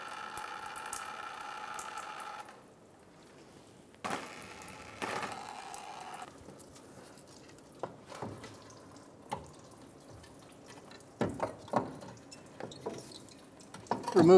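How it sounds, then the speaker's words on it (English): Transmission fluid drips from the gearbox of a 2007-2011 Toyota Camry as the front right CV axle is knocked out, giving scattered close, sharp drips and taps at irregular intervals after a brief tonal hum. "Be ready for fluid to drip out."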